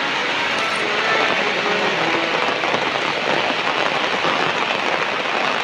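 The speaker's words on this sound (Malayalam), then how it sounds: "നല്ല മഴയാണല്ലോ" Loud, dense rain pouring steadily and close by, a continuous wash of noise with no breaks.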